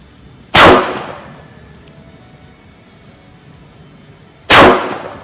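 Two loud, sharp pistol shots from a Kimber Pro Raptor II ring out about four seconds apart, each cracking into a ringing clang as it strikes a steel target roughly 15 metres away, with quiet outdoor background between them.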